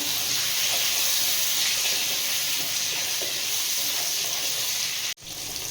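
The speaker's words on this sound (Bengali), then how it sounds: "পটলের মধ্যে একটু নুন আর হলুদ দিয়ে দেবো ভালো করে ভেজে নেব" Pointed gourd with salt and turmeric frying in oil, giving a loud, steady sizzle that holds throughout and cuts off sharply near the end.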